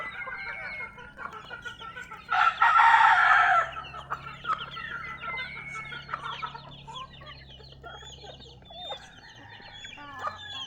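Hens cluck softly and intermittently, and a rooster crows loudly once for about a second, with faint outdoor ambience throughout.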